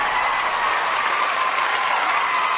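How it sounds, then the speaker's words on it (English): A large crowd bursts into loud, continuous applause, a dense unbroken wall of clapping that holds steady at full volume for the whole stretch. "and the crowd goes crazy."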